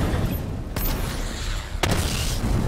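Missile barrage explosions in the video game Batman Arkham Knight land as two heavy booming blasts about a second apart, loud and dense, over a continuous roaring game soundscape.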